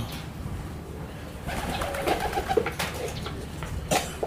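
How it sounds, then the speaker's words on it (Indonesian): Local spotted dove (tekukur) cooing softly at a distance, a few low coos rising after a quiet start, with faint background noise and no talking. "ini tekukur lokalnya ya"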